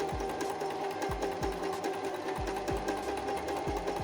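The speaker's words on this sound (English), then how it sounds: "I've now hemmed both the bottom part of the body of the coat, as well as the back side of the bottom part, as well as both sleeve pieces." Sewing machine stitching hems on small fabric coat pieces for a fashion doll, a steady close mechanical whir with an even rapid needle thump running throughout.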